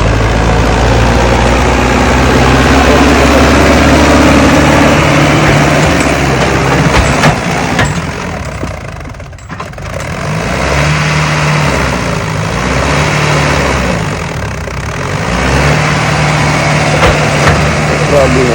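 A Sonalika tractor strains while pulling a loaded paddy trolley, its engine roaring loud and close in a heavy, steady drone that briefly dips mid-way before labouring on, with occasional voices beneath.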